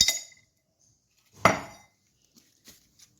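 Crushed coriander, small cumin and ginger go into a vessel of water for a cold-and-cough home remedy, marked by two sharp metallic clinks of a utensil against the container with quiet gaps between, and no talking.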